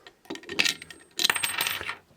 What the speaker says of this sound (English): Problem is that the coins, the smaller ones, fall out, they don't stay.